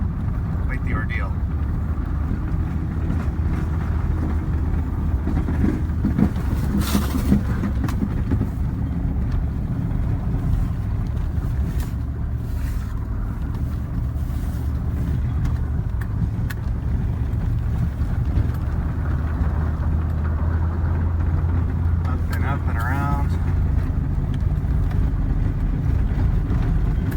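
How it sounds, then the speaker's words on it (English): A four-wheel-drive SUV fitted with SCC ZT735 tire traction chains plows up a long snowy hill, its engine a steady low drone with rumbling chains and wind buffeting, with a person talking over it throughout. "So we're plowing uphill, a long hill."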